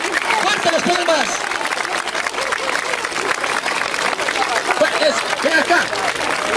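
A dense wash of audience clapping and crowd noise at a live stand-up comedy show, steady and loud throughout with voices chattering and shouting over it.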